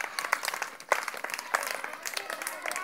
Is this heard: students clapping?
yes